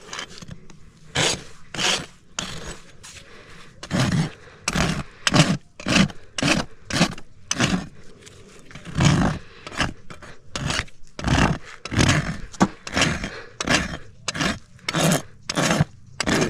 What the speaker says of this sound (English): Use the smooth side of my rasp. Come all the way around the toe to smooth it out.